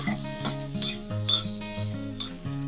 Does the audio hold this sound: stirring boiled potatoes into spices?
yes